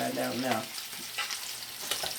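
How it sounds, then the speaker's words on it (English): New York strip steak standing on its side in a hot skillet to render the fat edge, cooked medium rare, giving a steady close sizzle after a brief spoken remark at the start. "let the skillet do its job so I can render the fat that's on the side"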